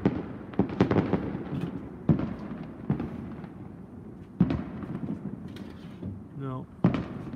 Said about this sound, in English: what you're hearing but not seeing is the fireworks of one of the towns over there